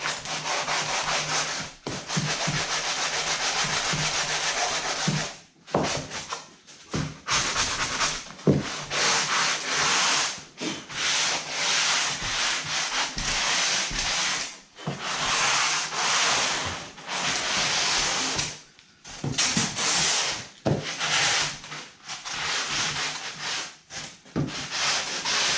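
Foam is scratched and rubbed steadily with a knife while a foam and fabric fishing boat is built, giving a loud, continuous close-up rasping broken by brief pauses, with no talking.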